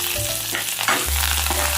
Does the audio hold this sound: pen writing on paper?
no